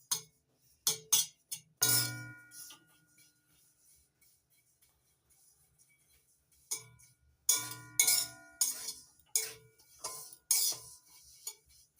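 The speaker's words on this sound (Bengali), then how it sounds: "এবার কন্টিনিউ নাড়াচাড়া করতে হবে, নাড়াচাড়া বন্ধ করা যাবে না।" A spoon clinks and scrapes against an empty pan while breadcrumbs are dry-fried, sharp metallic taps coming in clusters with a quiet stretch in the middle.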